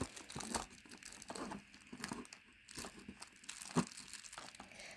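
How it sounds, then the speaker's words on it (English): Quiet crinkling and scissor snipping of plastic packaging around a Steve Madden crossbody bag, a few short cuts and rustles with brief pauses between them, close by. "let me grab actually my scissors and let's cut this away"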